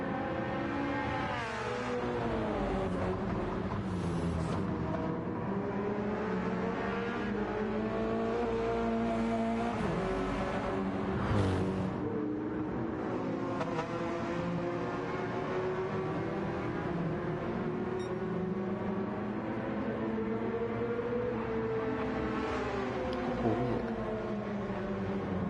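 Race car engines in Gran Turismo 7 during a Subaru and Porsche race, a continuous loud engine roar with rising and falling revs as the cars accelerate and shift, overlapping engines throughout.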